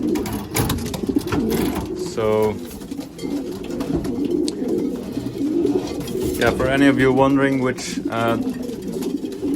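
Racing pigeons coo in a loft, with several soft, rolling coos rising and falling at moderate distance while someone talks over them.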